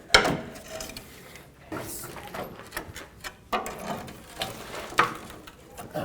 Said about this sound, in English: Take a pry bar, pry it down.